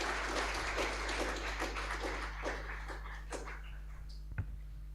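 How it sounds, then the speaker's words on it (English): Applause from an audience at an AI for Health symposium at Mbarara University welcoming a speaker: steady, moderately dense clapping that thins out toward the end, over a constant electrical hum. "Let us encourage her with a hand clap."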